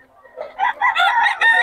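Chickens and roosters at a poultry seller cluck and crow in a quick, close burst of overlapping calls lasting under two seconds.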